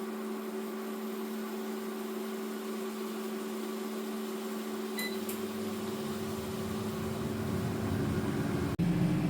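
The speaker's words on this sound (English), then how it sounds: "We'll air fry these chips for 12 minutes." Air fryer running as it cooks chips, a steady fan hum with a low drone and faint whir, fairly quiet and unbroken, with a brief click near the end.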